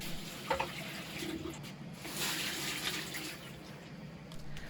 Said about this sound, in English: we're going to add 1 gallon of water to it.